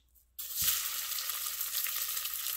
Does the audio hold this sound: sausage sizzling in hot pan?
yes